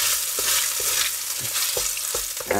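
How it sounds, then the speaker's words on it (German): Tomato paste sizzling and frying in a Dutch oven while being stirred, a steady close hiss with soft scraping strokes at regular intervals, no speech. "Und jetzt schmoren wir uns ganz kurz das Tomatenmark an"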